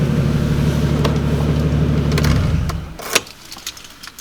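A car reverses out of a road at night, its engine a steady low rumble for a couple of seconds before it eases off and quiets, with a sharp click and a few faint knocks after.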